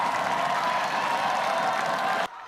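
Continuous dense crowd noise of applause and cheering fills the clip at a steady, loud level after a Korean national curling team's 5–4 comeback win, then cuts off abruptly near the end.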